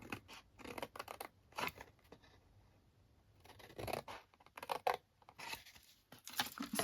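Scissors cut score lines in a card gift box for a hand gel bottle, giving quiet, close snips and crisp slicing strokes in irregular bursts separated by brief pauses.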